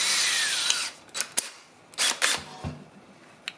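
A power drill with a carbide bit enlarges a hole during a turbocharger install on a 2008 Chevy Cobalt, first a sustained whining grind, then several short sharp bursts and taps with pauses between.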